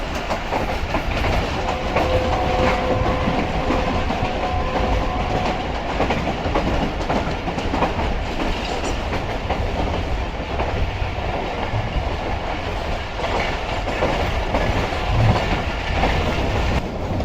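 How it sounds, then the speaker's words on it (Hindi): The Rehman Baba Express runs steadily on its rails, giving off a loud, continuous rumble with a rhythmic clickety-clack of wheels from inside the moving train. "तो ये इसमें हमारी ट्रेन पहुंचने वाली है मल्ली रिवर ब्रिज के ऊपर।"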